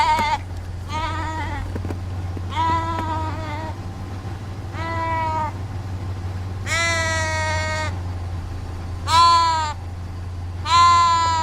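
A sheep, apparently a ewe separated from her lamb, bleats repeatedly in loud, wavering calls at close range, about seven cries spaced a second or two apart, over a steady low hum of background noise.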